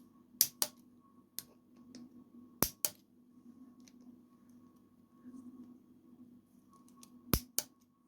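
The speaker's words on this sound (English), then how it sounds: "I'll just torque them all up to 12 Newton meters" A torque wrench tightens the engine bolts of a ZRX 1200 rebuild to 12 newton meters, giving several sharp, close clicks, some in quick pairs, spread across a quiet background.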